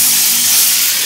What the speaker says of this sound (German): dass du dann mit Wasser ablöscht und sofort den Deckel drauf gibst